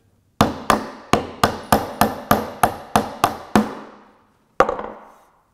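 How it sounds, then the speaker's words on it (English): A run of about eleven sharp hammer blows in a steady rhythm knocking a nail out of reclaimed wood over a scrap board, then a pause and one final strike, loud and close with ringing decay. "you can grab a hammer, put some sort of a board underneath"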